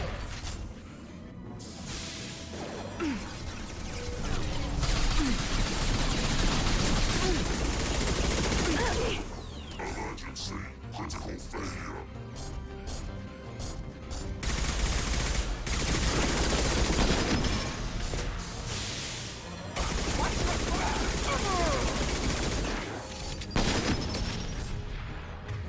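Combat in Mass Effect 2 with sustained mech gunfire, rapid bursts, booming impacts and sharp sniper shots, loud and dense through most of the stretch.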